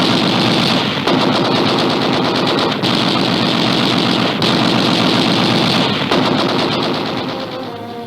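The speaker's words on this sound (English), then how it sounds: "Immediately, a torrent of gunfire is turned on the crippled sub." Sustained, loud machine-gun fire from a WW2 aircraft strafing a crippled submarine, rattling in rapid bursts with brief pauses between strings of shots, fading slightly at the end.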